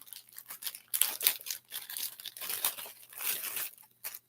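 Plastic packaging around a metal kitchen whisk crinkles and tears in a series of close, uneven rustling bursts, with no one speaking.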